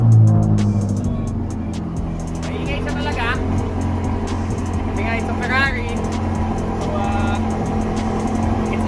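A 500-horsepower Ferrari supercar engine is running with a steady, throaty drone throughout. People talk over it the whole time.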